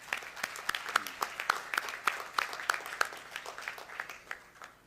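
An audience at an inauguration event gives a short round of applause, a fairly sparse, rhythmic patter of individual claps that stays moderate and gradually thins out.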